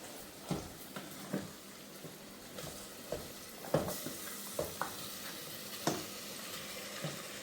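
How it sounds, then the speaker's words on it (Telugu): Marinated mutton tossed into a pan of frying ginger garlic paste gives a quiet, soft sizzle broken by sporadic clinks and scrapes of stirring, with no talking. "జర్ర ఫ్రై కాగానే ఇప్పుడు కలిపి పెట్టి ఉంచుకున్న మటన్ అనేది వేసేసుకోవాలి"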